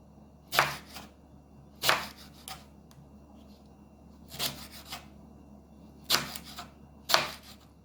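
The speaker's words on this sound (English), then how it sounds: "I'm just going to slice up my green banana, toss it in the pot, and I'm cutting this really thin." Thin slices being cut through a green banana with a knife for Jamaican manish water (goat head soup), five sharp, crisp strokes spaced a second or two apart, close and fairly quiet against a low steady hum.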